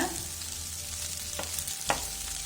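Potato pepper fry sizzles steadily in a pan, with a few distinct scraping stirs of the spatula at intervals near the end.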